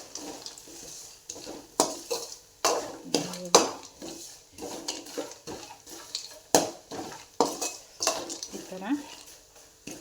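Dry coconut and peanuts being stirred in a pan, with repeated sharp scrapes and clinks of a utensil against metal over a faint sizzle, irregular and close; a voice speaks briefly.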